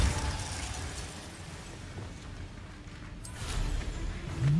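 Depulso spell being cast in the video game Hogwarts Legacy, a loud rushing blast with a burst at the start and a swelling whoosh and crackle toward the end.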